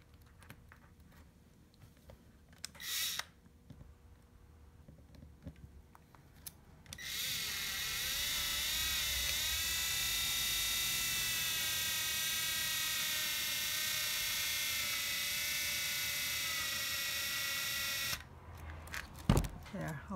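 Power drill driving a screw into a wooden picture frame, a steady high-pitched motor whir lasting about eleven seconds, close and loud, preceded by faint handling sounds and a brief click.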